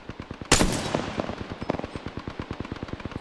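Rapid automatic gunfire in the video game Apex Legends: a loud burst opens, then a steady, rhythmic stream of close, sharp shots continues throughout.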